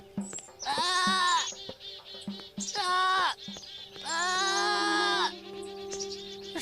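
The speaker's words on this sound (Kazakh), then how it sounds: "Жүр енді сол маңырап." A cartoon lamb bleats in several long, high, wavering cries separated by short pauses, close and clear over light background sounds.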